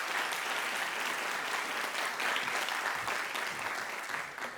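An audience applauds at a Stories That Matter film series event at the Johns Hopkins Bloomberg Center, a steady, full burst of clapping from a sizable crowd that carries on for several seconds.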